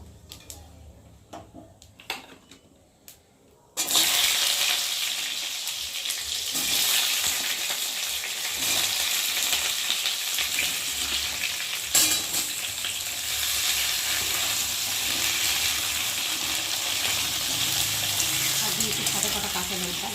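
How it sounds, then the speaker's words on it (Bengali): Vegetables tipped into hot oil with bay leaf and cumin erupt into a loud, sustained sizzle after a few quiet seconds, with occasional stirring underneath. "আর এখন আমি অল্প করে এবার সবজিটাকে ঢেলে দেবো"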